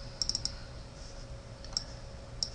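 Computer mouse clicking during software installation of a DC power monitor configuration utility: a quick burst of four crisp clicks, then two more isolated clicks, close and quiet with no talking.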